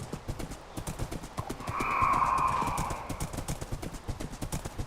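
Horse hooves clip-clopping in a steady rhythmic gait, close and clear, with a brief whinny-like swell in the middle.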